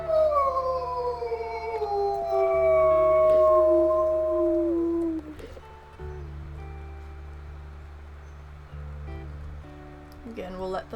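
Wolves in the game WolfQuest howl in long overlapping gliding tones, loud and sustained for several seconds before fading out over a low ambient drone.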